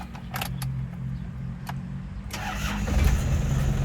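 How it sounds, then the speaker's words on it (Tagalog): An Isuzu Hilander diesel engine is started with the key: key clicks, then the cranking catches and settles into a close, rumbling idle. "Pag susi mo, start ka na lang na start."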